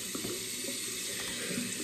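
Tap water runs steadily into a sink for a mouth rinse, a short, even splashing stream heard close and alone.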